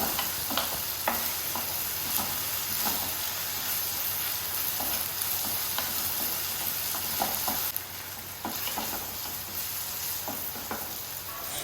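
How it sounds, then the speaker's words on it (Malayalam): Chopped onion with salt sautéing in a pan, a steady dense sizzle with regular spoon scrapes and stirring strokes throughout, close and fairly loud. "കുറച്ച് ഉപ്പിട്ട് നന്നായിട്ട് വഴറ്റിയെടുക്കാം"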